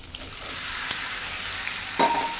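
Tomatoes frying in a pan for tomato chutney, a steady soft sizzle with a couple of sharp clicks and a brief louder burst near the end, close and without talk.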